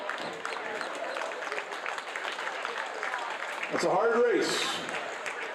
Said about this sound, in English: Let's have a nice round of applause for all the 200 free.